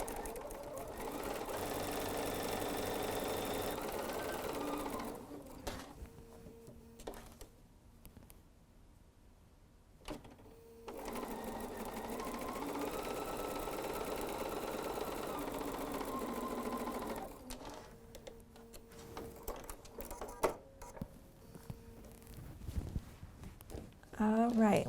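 A domestic sewing machine chain-stitching half square triangle quilt pieces, running in long steady whirring runs with short pauses between pieces and brief clicks and fabric handling in the gaps.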